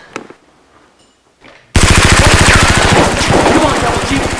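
A Nerf toy gun firing at close range as a loud, rapid continuous burst that begins abruptly after a few faint knocks and a short quiet stretch, then runs steadily to the end.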